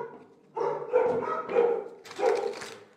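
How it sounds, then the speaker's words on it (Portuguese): A neighbor's dog barks three times in quick succession, medium distance, each bark rough and full with a short pause between, heard alone in a quiet room. "deve ter o cachorro do vizinho"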